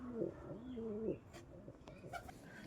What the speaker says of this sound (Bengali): এগুলো হচ্ছে সিরাজুল পায়রা